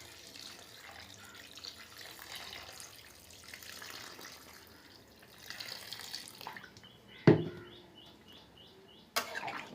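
Spice-rinsing water splashes into a pot of braised mutton, a soft running-water wash followed by a few sharp clanks of a vessel and the pot nearby.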